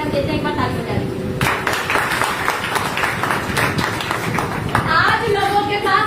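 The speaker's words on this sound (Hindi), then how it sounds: "एक बार ताली बजा लीजिए।" An audience at a direct selling training seminar breaks into a burst of clapping lasting a few seconds, mixed with a speaker talking.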